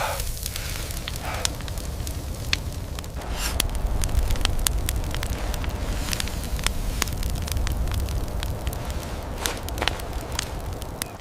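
A fire crackles steadily with sharp, scattered pops and snaps over a low rumbling roar, close and continuous with no voices.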